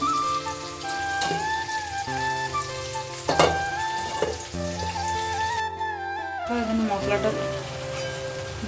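Onion and tomato frying in a pan, a continuous sizzle under a busy mix of tonal background sounds and occasional stirring knocks, with some voice-like activity but no clear talk.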